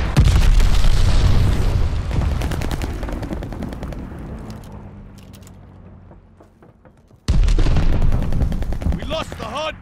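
Heavy gunfire and booming explosions at a hardpoint in Call of Duty: Vanguard, loud dense bursts that gradually fade to a lull before another loud barrage erupts.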